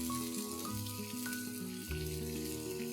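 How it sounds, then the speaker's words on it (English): Diced onion cubes sautéing in a pan for a restaurant-style Indo-Chinese dragon chicken, a steady soft sizzle beneath louder tonal background music. "I'm going to add 1 onion that I have diced into big cubes. Saute this as well for a few seconds."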